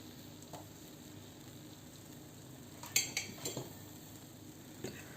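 A French toast sandwich sizzles softly in a pan, with quiet steady frying under a few clinks and scrapes as it is flipped, close and fairly faint, no talking.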